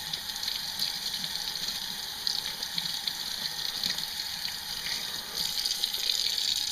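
Tap water runs steadily over freshly cleaned squid in a sink, a continuous hiss and splash heard alone at close range.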